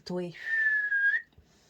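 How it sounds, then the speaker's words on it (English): A person whistles a single sustained, clear tone lasting about a second, slightly bending at the end, preceded by a brief voiced sound and followed by a short soft breath. "I like whistling and blowing at the moment."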